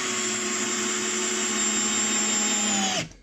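Pink limited-edition Parkside PBSA 12 D4 cordless drill driver in first gear sinking a screw into softwood, a loud steady motor whine lasting about three seconds before cutting off abruptly.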